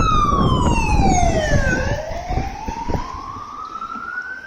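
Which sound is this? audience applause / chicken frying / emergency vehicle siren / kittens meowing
emergency vehicle siren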